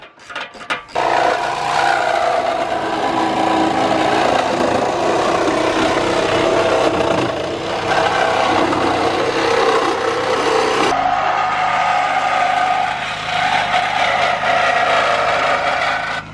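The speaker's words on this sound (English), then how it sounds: "I picked up these metal reciprocating saw blades. We're gonna start cutting." A reciprocating saw fitted with metal blades cuts through the driver's side frame rail of a wrecked Ford Focus RS, a continuous loud rasping grind lasting throughout with only brief changes in tone and no voices.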